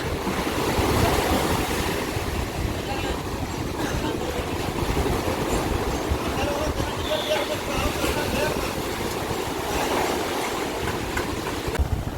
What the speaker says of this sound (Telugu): బీభత్సంగా ఉంది ఇక్కడ ఇంకా అలలు గట్టి వస్తున్నాయి